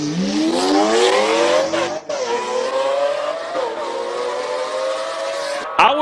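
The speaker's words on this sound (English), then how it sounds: "Let's see what the Aventador can do now." A Lamborghini Aventador supercar accelerates hard up a hill climb race course, its loud, close engine note rising steadily in pitch through the gears with brief dips at each shift.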